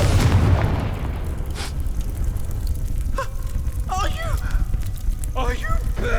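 A fire blast spell cast in the wizarding game Hogwarts Legacy opens with a loud burst and a fiery roar, which then fades under a busy mix of crackling effects and brief voiced grunts.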